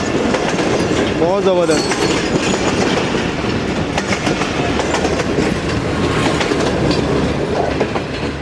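A nonstop express train roars through Chanesar Halt station in Karachi, a loud, continuous rush of wheels and rattling coaches with a brief horn-like tone early on; someone speaks briefly over the din.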